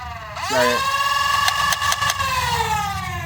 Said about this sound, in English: It's my first motorized Pro Blaster. And this thing sounds insane.